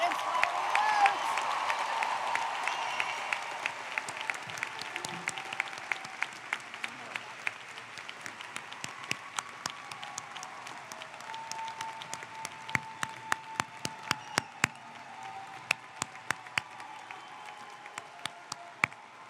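A commencement audience applauds the graduating class of 2022 at the College of Saint Rose, a broad sustained round of clapping that slowly thins into scattered individual claps, heard from within a large hall.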